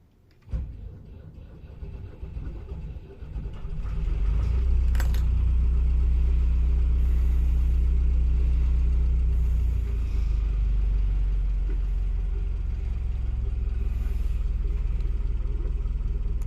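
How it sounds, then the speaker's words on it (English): A BMC diesel engine in a 1980 Aquafibre 33 boat cranks briefly, catches and settles into a loud, steady low-pitched running rumble, preceded by quiet clicks and handling noise. "This is engine start."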